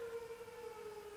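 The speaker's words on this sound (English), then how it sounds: "It's 12 o'clock here. That's what that siren is, just so you know." A civil defense siren sounds at noon, holding a steady wailing tone across the whole stretch, far off and moderately loud, with no one speaking.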